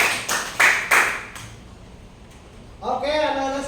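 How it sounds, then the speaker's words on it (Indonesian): A group of children in a classroom Islamic lesson clap in three quick loud bursts, then stop, followed by a voice talking. "Tepuk tangan."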